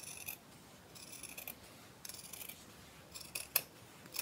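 Scissors cutting fabric to reshape a dress neckline, several short crisp snips spaced irregularly, close and quiet with no talking.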